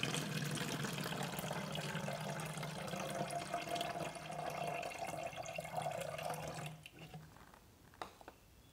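Coconut water pours steadily into a bottle as fertilizer for orchids is mixed, a continuous close liquid gurgle lasting several seconds before tapering off into quieter handling sounds.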